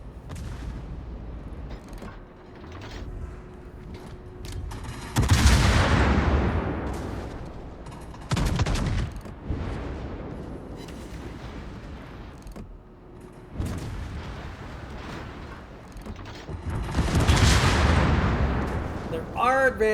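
Naval guns in a warship game fire AP shells in several heavy booming salvos spaced a few seconds apart, each with a rumbling tail, while someone talks between and over them.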